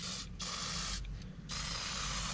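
Honda Power Equipment Cloud Silver touch-up spray paint hisses onto motorcycle wheels in a near, continuous spray with two brief pauses.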